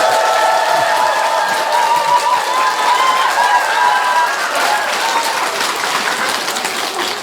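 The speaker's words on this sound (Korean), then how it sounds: "자연 스님을 위해서 박수 한번 해드렸으면 좋겠습니다" Sustained applause from a large audience at an overnight Diamond Sutra chanting prayer service, dense steady clapping filling the hall for several seconds with a faint murmur of cheering underneath.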